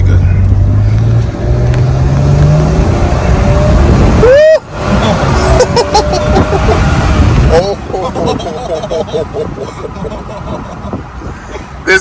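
A BMW 535xi wagon's engine revs up and falls back, rising throaty pitch sweeps with a sharp whooshing swell midway, close and loud, with voices nearby.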